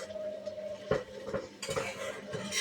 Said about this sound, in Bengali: গ্যাসটা বাড়িয়ে আর একবার ঝিঙেটাকে মেখে দিলাম